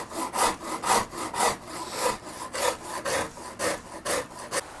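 The coarse side of a file rasps wood on a custom guitar build, about a dozen rhythmic, evenly spaced strokes close up, with no talk.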